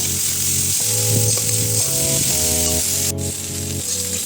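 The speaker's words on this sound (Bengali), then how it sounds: "এবার হাই ফ্লেমে কিছুক্ষণ সবজিগুলিকে নাড়াচাড়া করে নেব" Vegetables stir-fried in oil on a high flame sizzle steadily, the hiss running continuously under a looping musical tune with no voice.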